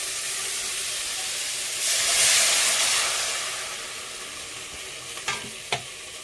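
Bengali fish curry gravy boiling in a pan, giving a steady bubbling hiss that swells briefly, then settles, followed by two sharp clinks of a utensil, close by and with no voices.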